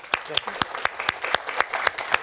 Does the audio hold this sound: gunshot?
no